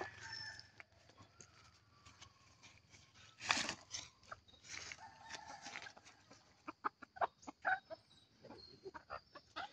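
Faint clucks from native chickens and a rooster's crow come through scattered clatter and rustling, mostly distant with a few sharper sounds nearby.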